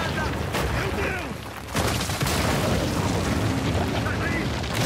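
Explosions and rumbling blasts from the video game Uncharted 4: A Thief's End fill a loud, dense stretch of sound, with a brief dip before a second roaring burst, and game characters' voices shout over it.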